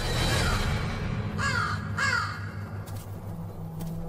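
A crow gives two loud, close caws against a steady outdoor background hum, with faint further bird sounds near the end.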